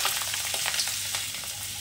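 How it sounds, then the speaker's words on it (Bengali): Rice grains being lightly fried in a wok, a continuous close sizzle and crackle with rustling stirring strokes, steady and fairly loud throughout. "এরপর আমি চালগুলোকে হালকা করে ভেজে নেব"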